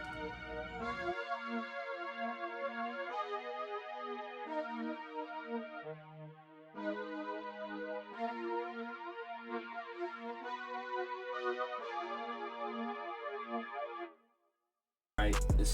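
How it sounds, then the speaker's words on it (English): A synthesized natural brass section sustains a series of chords doubling a piano part for a soul sample, held blocks that change every second or so, then break off near the end before a brief loud burst. "Next, we got a brass, and it's just the chords of the piano copy over."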